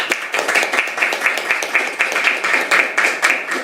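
An audience at a Korean political gathering claps steadily and fairly close, a dense run of rhythmic hand claps that keeps going without pause for the whole stretch.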